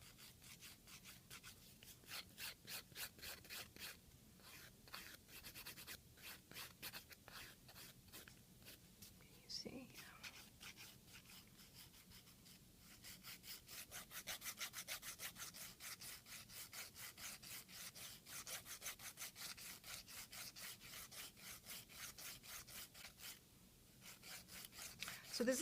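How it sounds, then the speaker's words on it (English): A file buffs purple tips off acrylic nails in steady, rapid strokes, the gritty rasp running close and continuous with brief pauses. "I'm just gonna buff these purple tips off"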